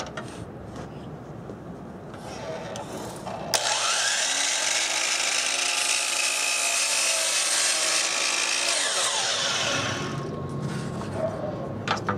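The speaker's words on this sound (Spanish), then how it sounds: "Vamos a hacer un corte igual angulado." A DeWalt mitre saw makes an angled cut through wood: the motor whines up suddenly, roars loudly for about six seconds as the blade bites, then winds down, with quieter workshop noise before and after.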